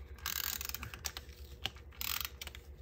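A tape runner lays adhesive on a paper card, giving quiet, close ratcheting clicks and rasps in two short bursts with a brief pause, no talking.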